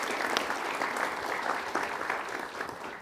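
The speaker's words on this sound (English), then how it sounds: "Let's please welcome, with a big round of applause, Priyanka Chopra on our Town Hall today." Audience applause welcoming a guest on a televised town hall stage, a dense steady clapping that fills the room at full loudness for the whole stretch, with no talk over it.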